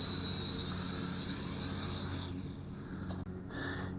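Small FQ777 FQ19W pterosaur-style FPV toy drone with steady, high-pitched propeller whine that drops in pitch and fades partway through as it sets down, followed by a faint click and lighter motor hum.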